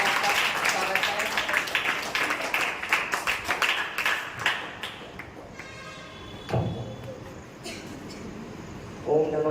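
An audience at a Jain religious seminar on stage at Shri Nandishwar Vidyapeeth, Khaniyadhan, claps to welcome a speaker. The dense applause gradually thins to scattered claps and dies away, followed by a voice starting to speak.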